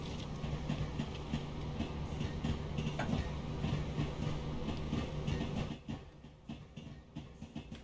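A BR Class 313 electric commuter train in Train Sim World rolls along with a loud, steady rumble and a low hum, easing off and quieting toward the end, with no talking.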